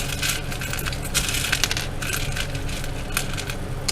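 Small craft buttons clatter and click against each other as a hand rummages through a box of them, a steady close rattle with sharper ticks throughout.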